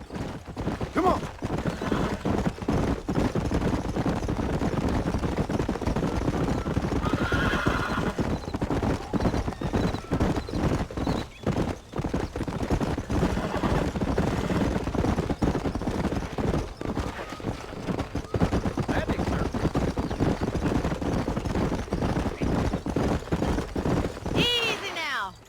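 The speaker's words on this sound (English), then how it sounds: "These are fine horses." Horses in Red Dead Redemption 2 gallop with steady, dense clip-clop hoofbeats throughout, close and loud, with occasional neighs and whinnies rising above the pounding and some talk mixed in.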